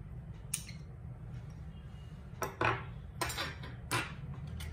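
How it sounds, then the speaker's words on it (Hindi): A whisk clinks against a bowl while boondi kadhi ingredients, including turmeric, salt, hing, green chili and ginger paste, are mixed, giving a few sharp metallic taps and scrapes over a faint low hum. "विस्कर की हेल्प से इसको अच्छे से मिला के मिक्स कर लेंगे।"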